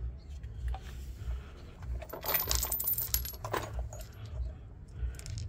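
Metal coins clink and rattle as they drop into a washing machine pump's coin filter, a close, busy jangling over a low steady hum.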